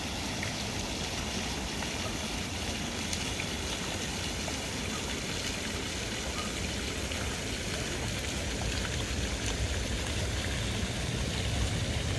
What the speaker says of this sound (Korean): 영상관 뒤편으로 연못도 있고 분수가 물을 뿜고 있네요.